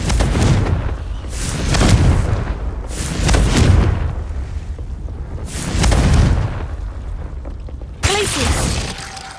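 Repeated Confringo blasting-spell explosions in Hogwarts Legacy, four heavy booming blasts spaced about two seconds apart, each rumbling away before the next, followed by a sharp burst and a ringing tone at the end.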